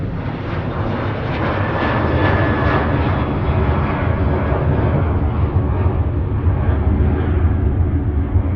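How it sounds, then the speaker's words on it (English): A Ryanair jet takes off from Manchester Airport bound for Palma de Mallorca, its engines a loud, steady broadband roar that holds strongly throughout, close to the listener, with no talk. "Ryanair Flight 1103 off to Palma de Mallorca there, EIDWE."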